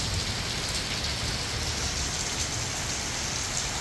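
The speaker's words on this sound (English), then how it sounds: "finally getting some real rain" Heavy rain from an Arizona desert thunderstorm pours down in a dense, steady hiss of close drops hitting surfaces, continuous and loud throughout with no voices.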